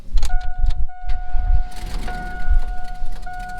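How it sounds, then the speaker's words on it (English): A car engine with an LS swap and exhaust leaks cranks and turns over, its low rumble building under a steady two-tone electronic chime. "we're ready to fire this thing up."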